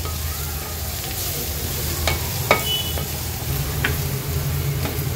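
Turmeric, homemade Agri Koli masala and garam masala sizzle in hot oil as the base for prawn rice. The frying is close and loud and runs continuously, with the occasional scrape and clink of stirring in the pan.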